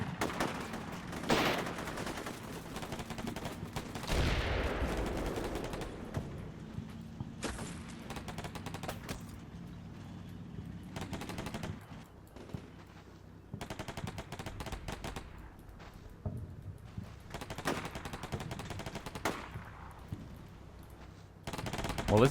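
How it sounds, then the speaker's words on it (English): Heavy gunfire from the Combat Mission war game, Syrian Arab Army Guards against NATO forces: loud, dense bursts of machine-gun and rifle fire, broken by brief lulls and scattered single shots. "Lot of fierce fire now."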